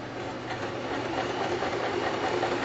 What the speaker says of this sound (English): when we come to sew this seam with the sewing machine